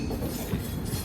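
An express train runs along the line out of SMVT Bengaluru toward KR Puram, giving a steady rolling rumble with faint wheel clatter, heard from on board.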